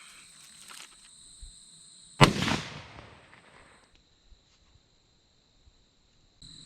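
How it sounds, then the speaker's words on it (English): A single sharp rifle shot is fired while a digital day/night scope is being zeroed. It is loud and close and decays over about a second, set against a faint steady electronic whine and a few quiet small knocks. "Let's do some shooting, guys."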